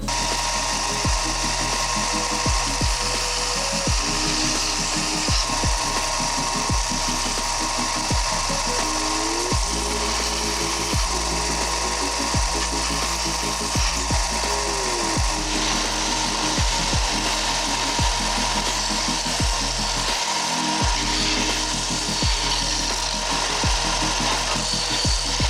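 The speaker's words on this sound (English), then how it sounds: "I just finished sanding these on the sander thing." A power sander grinds against wood in a steady loud drone, with repeated rhythmic scraping strokes and a low motor hum throughout.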